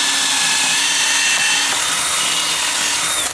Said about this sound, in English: All you do is take your drill bit right here.